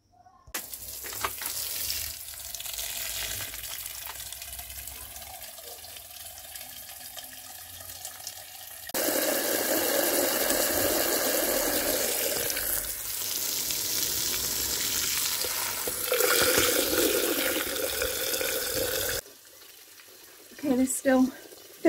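Water from a garden hose pours into tomato pots in a garden, a continuous hissing splash that grows louder and fuller midway, with a person talking over it.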